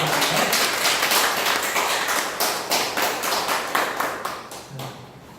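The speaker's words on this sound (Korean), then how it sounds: "큰 박수로 박사님을 맞이해 주시겠습니다." An audience claps in welcome for a lecturer at a Korean lecture on ancient history, a dense, steady round of many hands that fills the space, then thins and tapers toward the end with scattered final claps.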